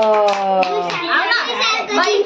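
Hands clap at a young child's birthday celebration, a short burst of claps blended with close, lively children's voices chattering over it.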